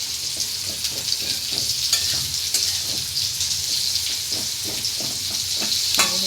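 Jute leaves frying in a pan, a steady close sizzle with soft stirring scrapes and small crackles, continuous and fairly loud, with no talking.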